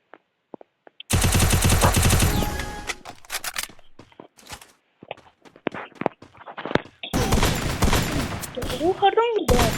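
Bursts of automatic gunfire from the Free Fire video game rattle in a long rapid volley, then scattered single shots and footsteps, then another heavy burst, with a voice calling out briefly between.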